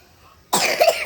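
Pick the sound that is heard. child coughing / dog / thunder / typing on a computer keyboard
child coughing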